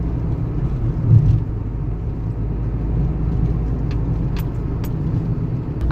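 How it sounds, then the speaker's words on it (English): Car driving along Highland, a road in Los Angeles, heard from inside as a steady low engine and road rumble, fairly loud and continuous with no talk. "I'm driving on Highland right now."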